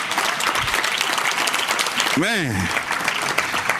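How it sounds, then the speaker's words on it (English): Audience applause fills a Columbus City Council housing forum, a steady, dense clapping from a crowd that runs throughout while someone speaks over it. "give him a round of applause"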